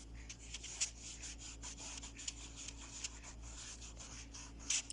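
A wax crayon rubs and scratches softly against paper in quick irregular strokes while colouring is pressed into an area, faint and close, with no voices.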